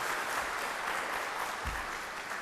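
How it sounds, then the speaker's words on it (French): A church congregation applauds the choir at a Sunday service, a steady wash of clapping from many hands heard on its own at moderate level. "On peut les applaudir."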